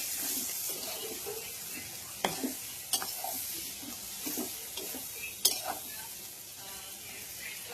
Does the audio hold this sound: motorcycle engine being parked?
no